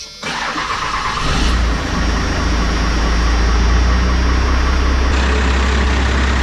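A first-generation Cummins diesel truck engine cranks briefly, catches and settles into a loud, steady, rumbling idle with a high whine on top, close by and with no voices.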